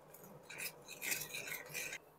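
A spoon scrapes and stirs spices into warm oil in a pan while making Kolhapuri bhadang, giving soft, repeated metallic scraping strokes, quiet and close, with no talk.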